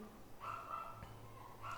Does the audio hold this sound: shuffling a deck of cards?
no